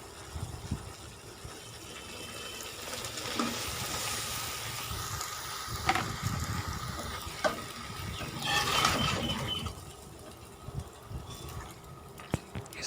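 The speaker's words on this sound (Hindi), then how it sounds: "इसके बाद इसको चम्मच से मिक्स कर देना है।" Macaroni and cooked chicken stirred with a spoon in a pan: soft scraping and gentle sizzling, with a few louder clinks and swishes of the spoon against the pan.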